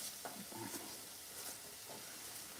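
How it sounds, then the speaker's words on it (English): Cabbage and sausage sizzle in a pan with a splash of chicken broth, giving a constant soft hiss and crackle, with brief scraping stirs near the start and no talking. "You guys hear that sizzle?"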